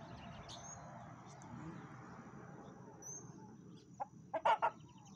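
A chicken gives a few short clucks close by near the end, after a quiet stretch of faint background noise and distant bird calls.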